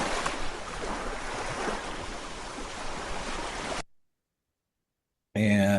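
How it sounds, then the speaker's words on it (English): Steady rushing ocean waves wash continuously for several seconds at moderate loudness, then cut off abruptly into silence before a different sound starts briefly. "This one's cool with the ocean sound."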